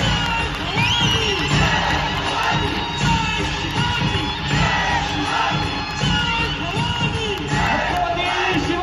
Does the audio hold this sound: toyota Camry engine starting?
no